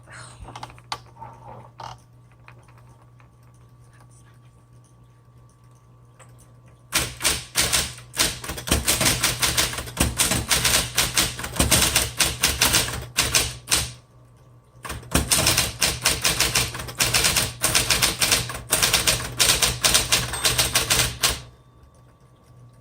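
Rapid, loud clacking of a 1960s Smith Corona Electra 120 electric typewriter in two long bursts, separated by a short pause, after a quiet hum at the start.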